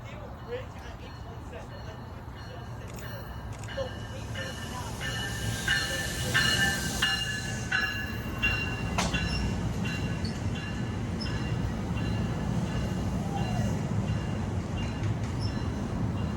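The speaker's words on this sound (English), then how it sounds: "This XO train features one of their Bombardier ALP 45 DPs." An Exo commuter train hauled by a Bombardier ALP-45DP dual-mode locomotive rumbles steadily past at close range in Montreal, with a broad low roar, faint wheel squeals and a brief sharp metallic tone midway.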